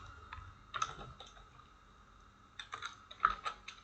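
Fingers type on a computer keyboard in two short bursts of quick, close, crisp clicks, separated by a quieter pause, with no talking.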